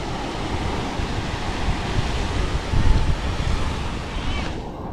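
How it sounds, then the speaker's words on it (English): Small waves lap and wash onto a Florida Emerald Coast beach in a steady, continuous surf roar, with wind buffeting the microphone throughout. "There's some little waves on shore now."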